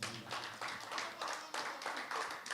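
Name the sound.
audience applauding the musicians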